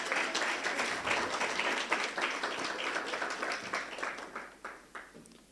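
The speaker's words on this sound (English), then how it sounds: "Give them a round of applause." Audience applause at a university research chair launch and five-year celebration, sustained clapping from a crowd filling the room, steady then thinning and tapering off toward the end.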